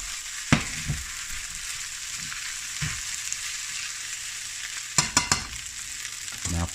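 Butter sizzles and fries in a pan while kimchi udon cooks, a steady close hiss broken by a few sharp stirring scrapes and clacks, with no voices.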